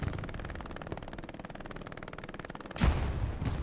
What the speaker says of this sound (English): You hear the explosions coming from everywhere